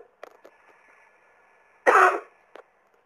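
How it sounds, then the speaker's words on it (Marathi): A single loud cough from a lecturer giving a Marathi talk on Indian constitutional history, surrounded by faint breaths and quiet mouth sounds. "खोकला वगैरे कधी कधी येत असतो"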